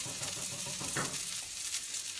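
A red wine reduction of Merlot simmers in a pan beside steak, making a soft, steady bubbling sizzle with a brief stir-like swell in the middle, and no talking.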